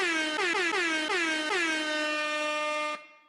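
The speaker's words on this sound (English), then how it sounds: "huge bullish news that I think deserves an air horn" A loud, blaring air horn sounds in several rapid stuttering bursts, then holds one long continuous blast before cutting off abruptly.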